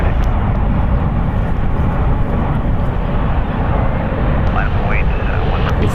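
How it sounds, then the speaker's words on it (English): A United Airlines Boeing 777-300ER lands at San Francisco International Airport, its broad engine roar loud and steady throughout. "this United Airlines Flight 838 from Tokyo Narita landing here. It's a 9-hour and 5-minute flight on our Boeing 777-300ER"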